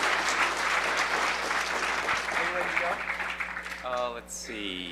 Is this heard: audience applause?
yes